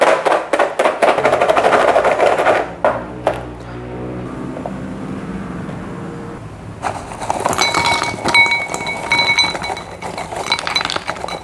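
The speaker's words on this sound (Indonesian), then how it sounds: "Sekarang kita tutup dan kita sek-sek." Rice flour crackers with chili balado seasoning are shaken in a closed container, giving bursts of rattling, clinking clatter that come and go, with a quieter stretch in the middle before the shaking picks up again.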